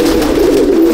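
Pigeons coo inside a pigeon loft, a loud close-up throaty rolling coo that runs without a break, with no talking over it.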